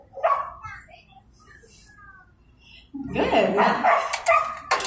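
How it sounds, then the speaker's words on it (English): An animal actor dog barks and whines excitedly outdoors during training, loud and close, with a person speaking briefly amid the noise. "Please excuse the barking. He gets really excited when he comes out here."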